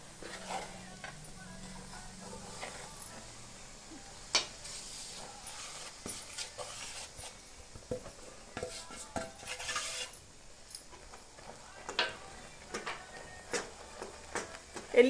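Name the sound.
stirring gram flour into hot ghee in a pan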